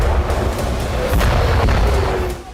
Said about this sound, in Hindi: जहां एक के बाद एक कई धमाके देखे गए